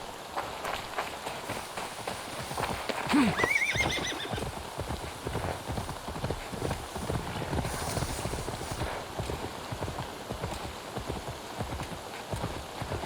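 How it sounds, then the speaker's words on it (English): Hooves clip-clop steadily throughout, with one clear horse whinny early on, over a constant patter like rain or wind, from the video game Assassin's Creed Valhalla. "Now to deliver Magni his horse."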